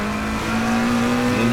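A race car in a racing video game brakes hard at Suzuka and drops down to first gear, its engine note holding a steady, loud, slightly rising whine throughout, with no talk.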